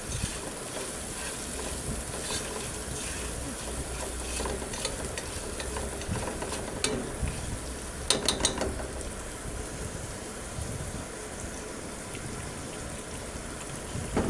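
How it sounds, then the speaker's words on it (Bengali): Ginger and garlic paste with salt fries in a pan for khichuri, giving a continuous close sizzle under repeated scraping and stirring of a utensil against the pan, with a short rattling burst midway. "আদা বাটা রসুন বাটা দিয়ে আবারও আমরা ভেজে নিচ্ছি।"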